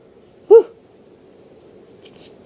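One quick, voiced sneeze bursts out close and loud against near silence, followed by a faint high blip.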